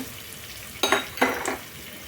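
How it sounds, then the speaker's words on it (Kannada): Urad dal and green chillies dropped into hot oil for a tempering, giving two sharp bursts of sizzling spatter close by, each flaring quickly and then settling into a softer crackle. "ಎಣ್ಣೆ ಕೂಡ ಒಂದು ಸ್ವಲ್ಪ ಬಿಸಿ ಆಯ್ತು ರೀ ಫ್ರೆಂಡ್ಸ್ ಅದಕ್ಕೆ ನಾನೀಗ ಒಂದು ಸ್ಪೂನ್ ಆಗೋಷ್ಟು ಉದ್ದಿನ ಬೇಳೆನ ಸೇರಿಸ್ಕೊತಾ ಇದ್ದೀನಿ ಒಗ್ಗರಣೆ"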